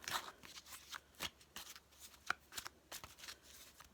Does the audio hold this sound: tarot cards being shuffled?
yes